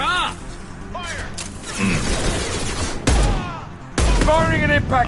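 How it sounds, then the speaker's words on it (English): Sharp, loud impact-shot gunfire from the Mass Effect 2 Legendary Edition video game, a few heavy blasts with mechanical clatter, under combat voice lines from squadmates. "Firing an impact shot."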